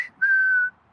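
One short, clear whistled note from a person, held steady for about half a second, close and loud, with no one talking.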